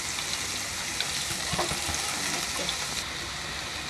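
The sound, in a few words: vegetables frying in oil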